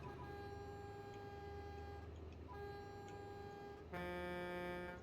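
A truck horn blares in Euro Truck Simulator 2 while driving Swedish roads, a loud sustained tonal honk that dips briefly then resumes, ending with a brighter, louder horn blast over steady engine hum.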